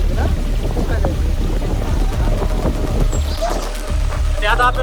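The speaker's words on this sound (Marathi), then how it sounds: "ते आता आपल्याला भुंकतंय" A dog barks repeatedly at people on a hill fort trail, sharp yelps and whimpers mixed with loud outdoor chatter and wind.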